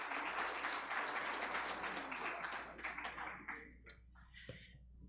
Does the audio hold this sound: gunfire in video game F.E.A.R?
no